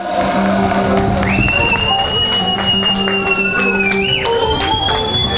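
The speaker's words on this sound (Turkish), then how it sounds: "Alkışlar güçlü gelsin." At an outdoor village picnic auction in Günkoru, Ladik, Samsun, a crowd claps loudly and continuously, mixed with chatter and a sustained whistle-like tone.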